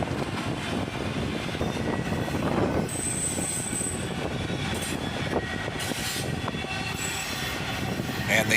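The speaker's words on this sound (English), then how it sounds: "Another long auto rack train." A long auto rack freight train rolls steadily past at close range, a continuous rumble of wheels and cars with a faint high squeal partway through.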